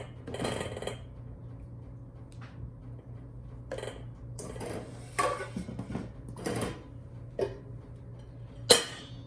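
A spatula scrapes down the sides of a bowl of vanilla cupcake batter, giving several separate soft scrapes and taps against the bowl at an uneven pace, close by, over a faint steady hum.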